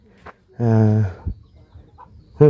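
Chickens at a rural village home in Thailand give a few close, loud clucks, one drawn-out call in the middle and short bursts around it.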